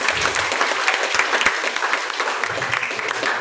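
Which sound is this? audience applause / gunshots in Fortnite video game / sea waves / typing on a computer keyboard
audience applause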